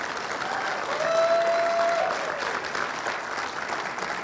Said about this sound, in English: We want to give the men an opportunity to applaud each and every one of you today.